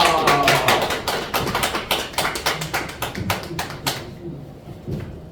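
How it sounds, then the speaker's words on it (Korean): Audience applause welcoming a lecturer at a business presentation, dense overlapping claps from a large indoor crowd that keep going, then thin out and fade toward the end. "우리 총장님을 여러분의 뜨거운 박수로 모시겠습니다"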